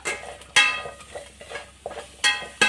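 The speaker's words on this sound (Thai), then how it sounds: "ขัวพริกตำแจ้ว" Chilies, galangal, shallots and garlic dry-roast in a pan, heard as a spatula scraping and stirring in short, close strokes, with a few sharper metallic clinks against the pan and no talking.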